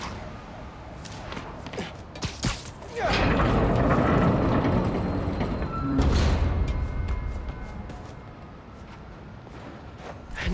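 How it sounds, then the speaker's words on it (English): A railway turntable in the Spider-Man Miles Morales video game spins with a heavy mechanical grinding and rumbling. A few sharp clanks come first, then a long, loud, steady churn that swells midway and gradually fades with faint clicks. "Spin the turntable, pull trains with webs."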